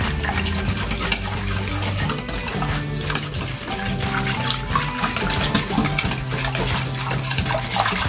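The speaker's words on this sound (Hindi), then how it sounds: "तो अब हम सारे इंग्रेडिएंट्स को अच्छे से मिक्स कर लेंगे।" Pani puri water with jaljeera powder and hing is stirred in a bowl, a continuous liquid swishing with spoon clinks and scrapes, steady and close, without talk.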